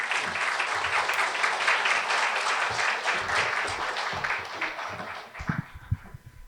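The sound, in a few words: residents applauding speaker's entrance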